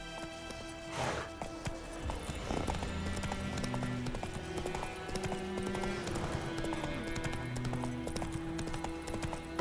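Horse hooves clip-clop at a fast gallop in The Witcher 3, a steady rapid rhythm of close, loud hoofbeats over a sustained tonal music and ambience bed, with a brief whinny-like burst early on.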